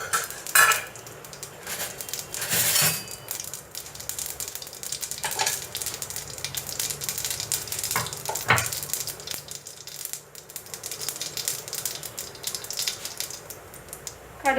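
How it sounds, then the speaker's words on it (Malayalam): Mustard seeds spluttering in hot coconut oil for an ivy gourd stir fry, a close crackling sizzle broken by sharp clinks of a utensil on the pan, no talking. "കടുക് പൊട്ടി വരുമ്പോൾ"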